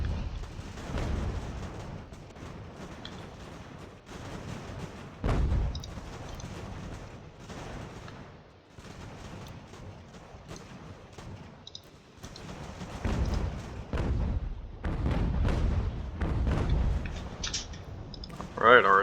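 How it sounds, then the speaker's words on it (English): Artillery fires in repeated booming bursts across a battlefield in Ultimate General: American Revolution, irregular volleys rising and fading with a steady rumble between them. "Alright, our artillery putting in some work."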